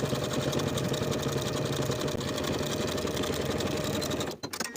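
A sewing machine stitches the crotch curve seam of palazzo pants, a steady close mechanical whir running continuously before stopping abruptly near the end, with a few faint clicks after.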